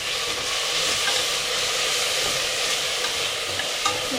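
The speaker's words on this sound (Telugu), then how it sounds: "వేసి బాగా కలుపుకోండి." Curd and coriander powder are stirred into tomato bath in a hot pan, a steady loud sizzle running throughout with faint spoon scrapes, close by and without talk.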